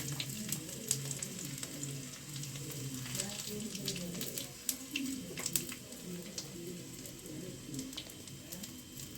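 Garlic sizzles and fries in a pan during home cooking of Gujje sukka, a steady faint crackle with small clinks, with someone talking over it.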